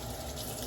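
Running tap water splashing steadily into a kitchen sink while something is rinsed off, a brief, even, moderately quiet wash of water with no voices.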